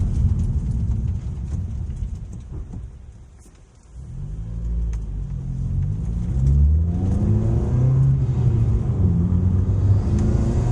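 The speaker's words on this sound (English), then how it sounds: "I just can't get enough of that blow off valve." A Honda Civic Type R FK2 drives loudly at close range, its engine revving and dropping with a turbo blow-off release as the throttle closes, then rising again through steady rising and falling pitch sweeps under constant road rumble.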